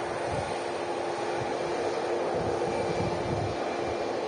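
A MAX aircraft at Manchester Airport in storm winds during Storm Agnes gives a steady, distant engine roar with a faint whine, blended into constant blustery wind noise.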